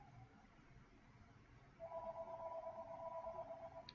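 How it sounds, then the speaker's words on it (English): A phone rings with a steady electronic trill that starts partway through and holds for about two seconds over quiet background noise. "Phone's ringing."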